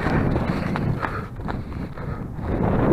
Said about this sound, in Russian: И как же здесь ветрено.